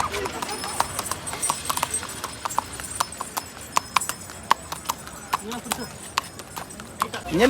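Hooves clop in a steady walking rhythm, sharp distinct knocks spaced about half a second apart, with a horse snorting or whinnying faintly at the end.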